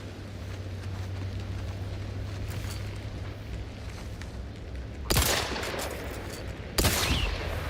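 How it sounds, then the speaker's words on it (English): Two sharp, loud gunshots from a repeating rifle in The Outer Worlds 2, a couple of seconds apart, ring out over a steady low ambient hum near the end. "Repeating rifle apparently does more damage than the shotgun."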